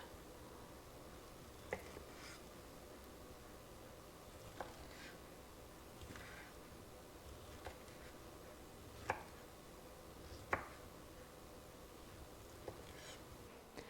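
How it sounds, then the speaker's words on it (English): A knife cuts a peeled beet into chunks on a board, giving a quiet scatter of sharp chopping taps at irregular intervals over faint background hiss. "And then I'm just going to cut chunks."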